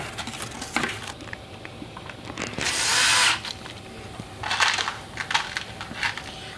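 Power drill driving small gold screws into the pre-drilled corner brackets of a Rockwood Kitchens wall pantry cabinet, heard as one loud, sustained whir of about a second amid scattered lighter bursts and handling clatter.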